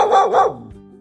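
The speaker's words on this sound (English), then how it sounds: "Do you know the sound a dog makes?" A small dog gives two quick, bright barks close up, followed by a brief fading tail.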